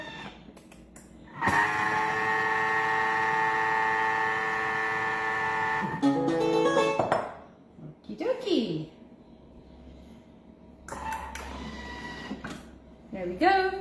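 A Thermomix whirs at speed 4 for a few seconds, mixing chocolate self-saucing pudding batter with sugar in a steady electric hum. Talk comes before and after the mixing.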